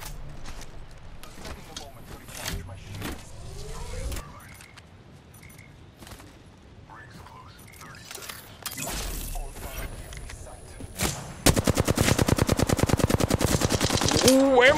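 Rapid automatic gunfire from a weapon in the shooter game Apex Legends, scattered shots early then a loud sustained burst near the end, heard beneath excited talk.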